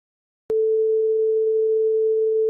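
Two matched sine tones combined nearly out of phase leave one steady, pure mid-range tone that starts abruptly after a brief silence and holds constant and loud to the end.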